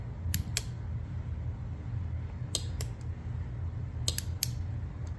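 A relay in a 2001 Nissan Pathfinder R50 4x4 clicks in three pairs of sharp, close ticks spaced a couple of seconds apart over a steady low hum.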